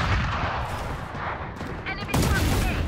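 Gunshots in the tactical shooter Valorant: a dense, continuous stretch of rapid firing with a sharper, louder burst near the end, amid ongoing combat noise.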